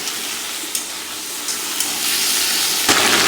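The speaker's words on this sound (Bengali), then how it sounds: "টমেটো দিয়ে দিচ্ছি, আর এই যে সবজিগুলো দিয়ে দিব। এটা ভালো করে ভাজতে হবে।" Tomato, mixed vegetables and nigella seeds frying in hot oil for a mixed-vegetable fish curry, giving a steady close sizzling hiss with a few brief sputters and one louder spitting burst near the end.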